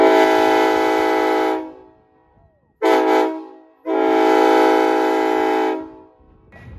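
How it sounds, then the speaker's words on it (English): Loud train horn mounted on a car and fired through a ball valve, HornBlasters kit: two long, very loud multi-tone blasts with a short chirp between them, close by. "this is quite a large horn in comparison to the overall size of the car"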